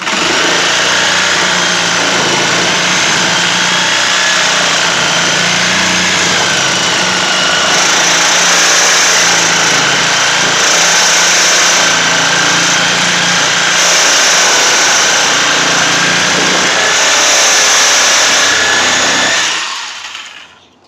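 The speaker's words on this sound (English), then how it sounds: "I'm just going to take the Sawzall, cut the jam right in half" A reciprocating saw cuts through a wooden door jamb in one long, loud, continuous buzzing run close by, then winds down and stops at the end.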